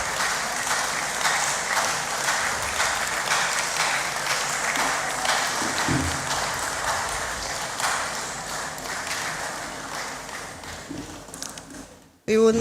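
Conference audience clapping fills a large hall, a steady wash of many hands with scattered knocks and a faint ringing tone, fading gradually before cutting out sharply near the end.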